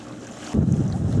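A sailboat moving under wind on Biscayne Bay, a soft hiss that jumps midway into loud, rumbling wind buffeting close to the microphone, with water wash underneath.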